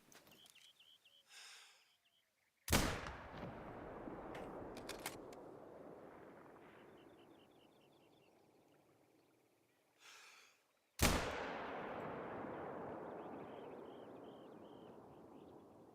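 Two sharp, loud hunting-rifle shots from a Ranger .243 in theHunter: Call of the Wild, spaced several seconds apart, each followed by a long echoing tail that fades into quiet outdoor ambience.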